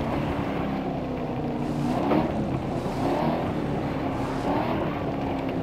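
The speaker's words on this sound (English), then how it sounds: "The supercharger is whining." Supercharger whine of a Dodge Demon in The Crew Motorfest racing game, a steady engine drone with a rising whine on top, heard alone at moderate loudness.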